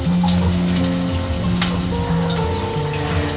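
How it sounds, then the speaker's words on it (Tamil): Chopped large onions sauté in a pan for a mutton gravy, with a loud steady sizzle over a droning, tonal background hum and a few crisp pops scattered through. "இப்போ வெங்காயம் கொஞ்சம் லைட் ப்ரௌன் ஆகிற வரைக்கும் வதங்கட்டும்."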